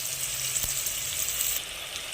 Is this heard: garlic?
yes